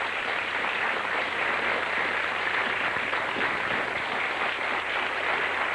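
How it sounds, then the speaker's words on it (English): Studio audience at the Blockbusters quiz show gives a steady, continuous round of applause lasting throughout, even in level with no talking over it. "Give him a round of applause."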